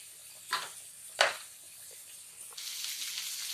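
Onions frying in a pan for stuffed bitter gourd, a soft, steady sizzle broken by two brief, louder bursts of crackling, then a brighter hiss toward the end.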